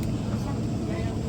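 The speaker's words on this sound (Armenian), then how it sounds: "Վերջ, մտանք ինքնաթիռ։" A steady, dense roar of airplane cabin noise after boarding, a low engine and air-system rumble that stays constant throughout, with indistinct voices mixed in.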